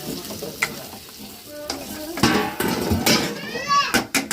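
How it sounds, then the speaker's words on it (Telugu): Salted fried chicken bones are stirred in a pan, with a spatula knocking and scraping against the metal over a lively sizzle, and someone speaks intermittently. "సాల్ట్ వేసిన తర్వాత మొత్తం కలిపిస్తున్నా"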